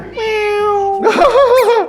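A cat meows twice, close and clear: a long steady call followed by a wavering, rising-and-falling meow, heard on its own without talk.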